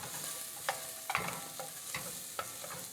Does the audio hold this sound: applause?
no